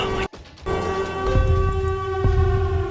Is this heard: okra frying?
no